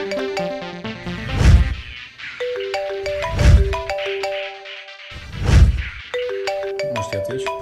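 A phone ringtone plays three times, each burst a melodic chime pattern over a low thump, with short gaps between rings and no talking.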